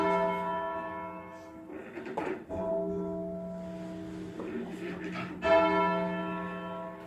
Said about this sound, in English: St. Saviour's has 8 bells which are hung for full circle ringing